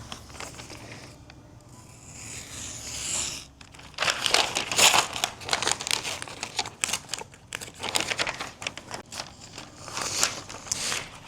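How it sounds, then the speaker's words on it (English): A blade cuts through freezer paper laid on a cutting mat, giving close, crisp crinkling and scraping bursts in irregular strokes after a quieter opening stretch. "Does not take a lot of pressure at all to cut through this freezer paper."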